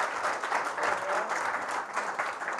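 Sustained audience applause welcoming Union Minister of State for Home Affairs Nityanand Rai at a political event: dense, steady clapping from a large crowd, loud and continuous throughout.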